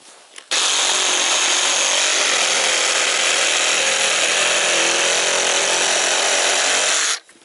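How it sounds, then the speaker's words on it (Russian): A sabre saw cuts through wooden logs in one continuous, loud, harsh buzzing burst lasting about seven seconds, starting and stopping abruptly, close up with no talking. "испытываем нашу сабельную пилу"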